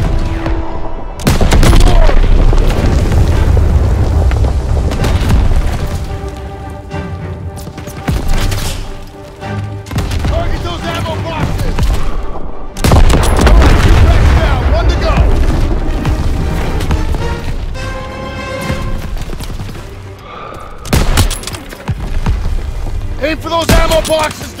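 Dense gunfire and heavy explosions in the World War II battle game Call of Duty WWII, loud booms and rapid shot bursts filling most of the stretch, with shouted voices over the combat.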